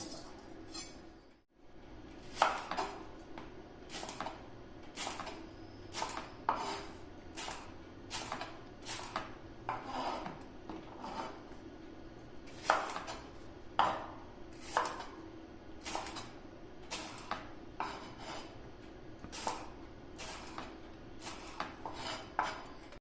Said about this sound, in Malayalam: മാങ്ങ ഇതുപോലെ സ്ക്വയറായിട്ട് അരിഞ്ഞെടുത്തിട്ടുണ്ട്